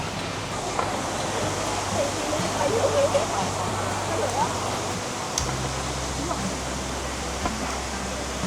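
Steady roar of falling water at the second tier of the seven-tier Krok I Dok waterfall in Saraburi, a constant broadband rush heard up close with brief faint sounds on top.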